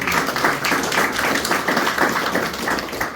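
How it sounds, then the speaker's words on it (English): Banquet audience applauding at a motorsports hall of fame dinner, a dense, steady wash of many hands clapping close by, sustained throughout without talk. "So give him a big round of applause"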